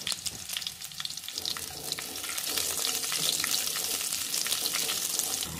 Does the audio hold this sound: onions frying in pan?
yes